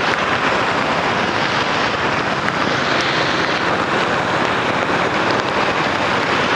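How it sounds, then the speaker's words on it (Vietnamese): Steady, dense rain hiss while riding through the streets of Saigon, from Ngã 6 Dân Chủ toward Phú Lâm in District 6, constant and loud throughout with some wind buffeting and no talking. "Cứ đi trong mưa như thế này"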